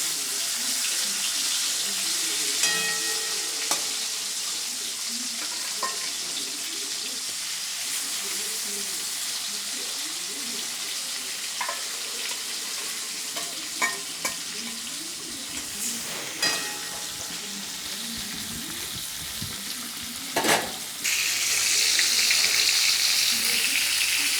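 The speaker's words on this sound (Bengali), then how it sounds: "মাছটা তো ভাজাতে হবে" Stingray fish fry in a pan with a steady broadband sizzle and hiss that holds for about twenty-four seconds, with a few sharp clinks and scrapes and a louder, brighter burst of sizzling near the end.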